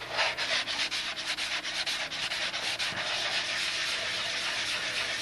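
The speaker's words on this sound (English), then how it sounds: "and you got to keep the sandpaper wet." Wet sandpaper rubbed by hand over a large painted wooden surface on the boat Miss Ashley, giving a steady close scrubbing rasp in rapid back-and-forth strokes with no talk.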